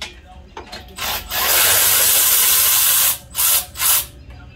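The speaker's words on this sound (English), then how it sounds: "Got our 17. Righty tighty, lefty loosey on a ratchet." A 17 mm ratchet working loose the brake rotor bolts on a 2015 Hyundai Sonata Sport, with brief clicking bursts that give way to a long, steady, loud run of ratcheting, followed by two short final cranks.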